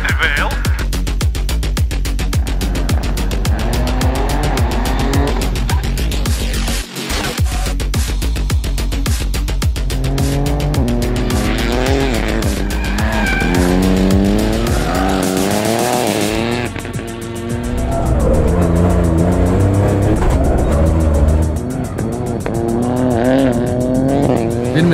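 An M-Sport-built Rally3 Ford Fiesta rally car roars at high revs through a mini rally stage, engine note rising and falling with gear changes while tires squeal in long skids, loud and continuous from onboard.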